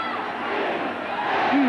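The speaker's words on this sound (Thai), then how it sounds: "ฟังสิครับฟังเสียงเชียร์ครับ" A large Muay Thai fight crowd keeps up a continuous roar of cheering, with a commentator talking over it.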